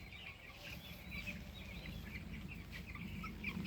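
Poultry chicks crowd around feeders and drinkers on a farm, giving a steady chorus of soft clucks and chirps over a low continuous hum, fairly near and unbroken.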